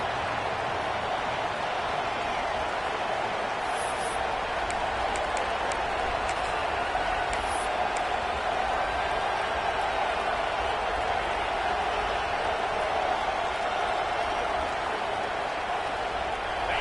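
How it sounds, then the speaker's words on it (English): Dense, steady stadium crowd roar at a football game, a broad continuous wash of cheering and noise filling the whole stretch at even loudness, with no clear individual voices standing out. "This crowd ready to make its presence known."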